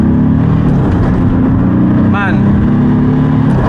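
A 1987 BMW fitted with a Mercedes diesel engine (about 560 bhp) drones loudly and steadily through the cabin after a downshift to third, with a brief rising whine partway through, while someone speaks over it.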